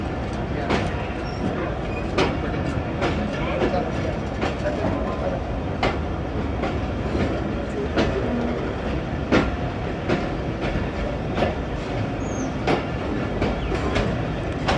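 Passenger train on Pakistan's ML-2 line running on rails, a steady rumble with repeated rhythmic clicks of the wheels, heard from on board with voices faintly audible beneath.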